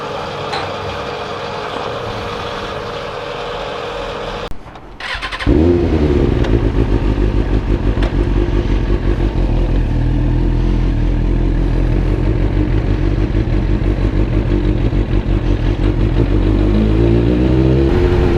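A motorcycle engine runs close by on the road, a steady loud droning rumble with rhythmic throb that briefly dips before settling into a strong continuous cruise with slight pitch shifts, no talk.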